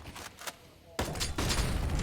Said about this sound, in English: Ooh, just dodging the grenades.